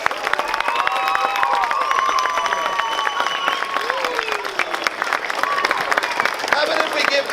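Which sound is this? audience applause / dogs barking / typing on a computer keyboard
audience applause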